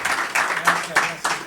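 Audience applause at a décima poetry workshop, a few bursts of scattered clapping with speech around it.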